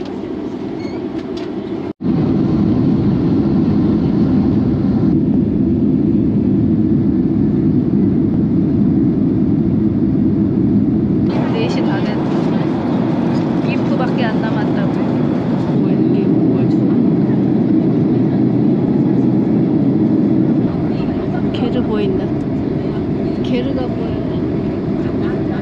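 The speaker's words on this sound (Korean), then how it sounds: "이륙 준비합니다." Inside a narrow passenger airplane preparing for takeoff on a flight to Mongolia, a loud steady engine rumble fills the cabin and shifts in intensity over time, while a person talks at points.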